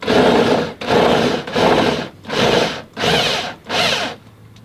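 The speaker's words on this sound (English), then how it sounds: "these guys have spent the good part of the last hour or so drilling through" A loud power drill boring through stainless steel on a sailboat at a marina runs in six long bursts of about half a second each, close by, with short pauses in between and no talking.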